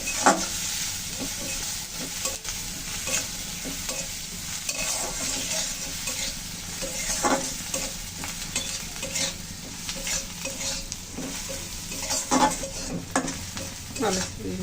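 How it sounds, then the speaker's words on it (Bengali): Onions frying with a little turmeric in a pan for potato mash, a continuous close sizzle broken by frequent spatula scrapes and stirring clatters, with no speech. "আলুর জন্য পেঁয়াজ কিন্তু সুন্দর করে ভেজে নেওয়া হয়ে গেল"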